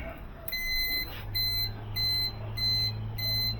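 A timer alarm on a powder coating oven beeps loudly in evenly spaced pulses over the steady hum of the oven fan and heaters.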